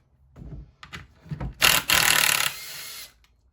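An impact driver with a 5/16 or 8mm driver removes handle bolts: soft clicks and knocks, then a loud, close burst of rapid hammering that runs for about a second before fading.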